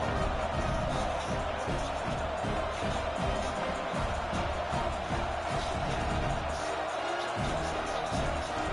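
A large stadium crowd roars continuously at a kickoff in an NCAA 26 college football video game, a dense, steady wash of cheering with no break.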